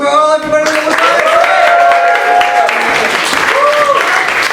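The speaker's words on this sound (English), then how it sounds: "Can we have one big round of applause for all everybody that was back?" A pub or bar crowd applauds at the close of a weekly Tuesday night session, the clapping dense and sustained while voices and cheering carry over it.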